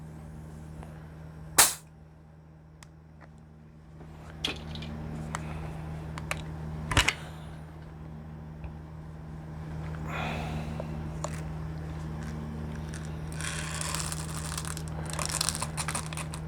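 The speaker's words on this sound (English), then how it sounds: "I'm going to get the batteries in this one and get it loaded up with BBs" Sharp clicks and clacks ring out as batteries are fitted and BBs are loaded into an airsoft gun, with a couple of loud snaps, scattered handling knocks and faint rattling over a steady low hum.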